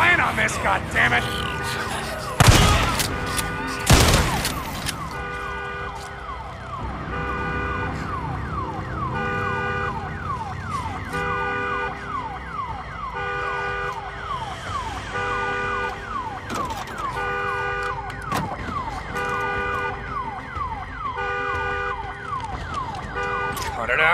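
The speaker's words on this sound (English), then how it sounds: "damn alarm." An alarm blaring in the video game Days Gone, a repeating electronic wail that runs steadily throughout, with two loud bangs near the start and game sounds underneath.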